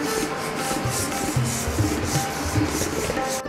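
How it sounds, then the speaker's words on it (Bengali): Sandpaper polishes a handmade clay pot in rural Birbhum, Bengal, making a close, rhythmic scratching rub. The strokes repeat steadily at roughly even intervals throughout, with no talking. "মাটির পাত্র তৈরি হওয়ার পরে সেটা আবার স্যান্ড পেপার দিয়ে পালিশ করা হচ্ছে।"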